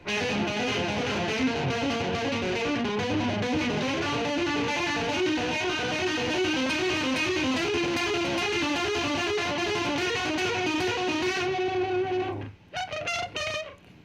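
A distorted electric guitar plays a steady, continuous riff through a Monoprice 611610 chorus pedal, with shimmering, swirling modulation, then breaks off near the end into a few choppy, separated notes.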